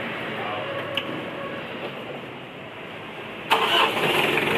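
Mitsubishi 4D56 diesel engine being started after an oil seal and balancer belt replacement: quiet background noise, then an abrupt catch as the engine fires and settles into a steady running rumble.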